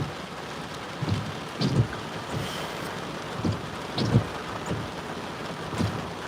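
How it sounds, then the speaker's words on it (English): Steady rain from a tropical storm shower in Fort Myers, Florida patters continuously, with soft low rumbles swelling now and then in the background. "It's starting to rain a little bit more now, but it's just a rain shower"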